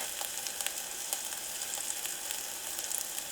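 Onions sizzle in a pan, a close, steady frying hiss broken by small pops and crackles, with no voices.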